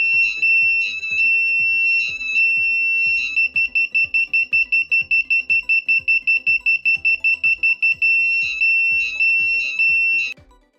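A 5V buzzer driven by a transistor circuit with an LED shrills in loud bursts of rapid beeps, then a long run of steady rhythmic pulses, then more quick bursts, with no talking.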